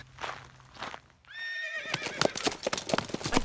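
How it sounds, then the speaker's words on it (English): Horses neigh on an outdoor hiking trail: one clear, drawn-out whinny with a falling pitch rises near the middle, while people chat around it and a few hoof clops sound. "There's horses here."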